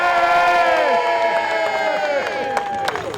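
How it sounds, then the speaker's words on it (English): A crowd of children and adults at a youth rugby charity event cheers for an under-7s team, with loud rising and falling shouts and whoops and a few claps near the end. "Let's have a huge cheer for Old Leamingtonians under 7s"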